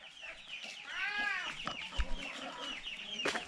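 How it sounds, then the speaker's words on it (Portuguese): Chickens on a small rural Brazilian farm plot, where horses and ducks are also kept, give soft clucks and a drawn-out squawking call, fairly close outdoors against a low rustling background. "As galinhas."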